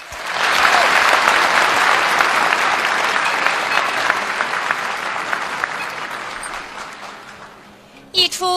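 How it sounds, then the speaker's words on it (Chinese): Loud, dense applause fills a hall at a Peking Opera concert, then slowly thins and fades before a brief clatter at the very end. "再次响起热情的掌声。"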